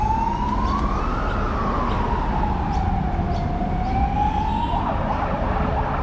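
Ambulance siren near a hospital in Brisbane, a loud wailing tone rising and falling slowly over steady street traffic rumble, close by and continuous.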